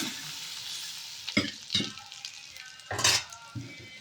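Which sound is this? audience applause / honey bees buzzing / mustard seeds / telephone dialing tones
mustard seeds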